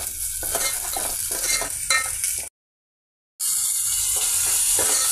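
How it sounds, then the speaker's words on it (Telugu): Chopped onion, green chilli, ginger-garlic paste and cocoa powder fry in hot oil, giving a loud, steady sizzle while a utensil stirs and scrapes through the pan; the sound cuts out briefly in the middle, then the frying resumes. "అందులో పెద్దల్లిపాయ పీసెస్, పచ్చిమిర్చి పీసెస్, అల్లం చిన్నులపాయల పేస్ట్, కోకో పౌడర్ అన్నీ యాడ్ చేసేసామండి. ఆయిల్తో ఈ విధంగా ఫ్రై అవుతున్నాయండి."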